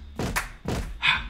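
Heavy foot stomps used as found-sound percussion, two deep thumps in a steady beat followed by a brighter hit, loud and close.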